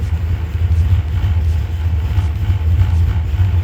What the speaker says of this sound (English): So you have exhaust cutouts here, which we can control